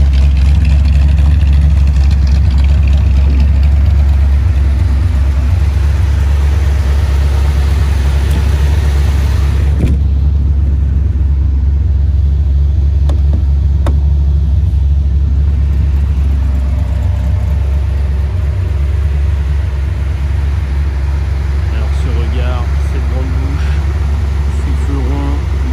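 An AC Cobra MK IV Autokraft roadster's engine runs loud and close, a deep steady idle rumble with a slight swell around the middle, continuous for the whole stretch.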